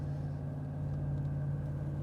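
Steady low exhaust drone from a Dodge Ram HEMI with Flowmaster dual exhaust, resonating inside the truck cab while cruising through a canyon not under load; a constant hum with mild rumble, no talking.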